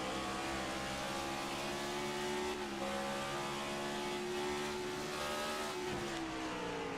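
Race car engines in an eNASCAR iRacing video game race at New Hampshire, a continuous droning roar of several cars running together at steady high revs, with a brief pitch dip near the end, loud and without talk.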